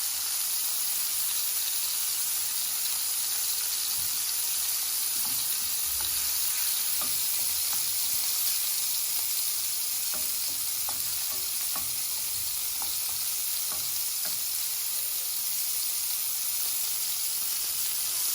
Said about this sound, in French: On a mis les lardons à suer, on a mis notre petit verre de crème.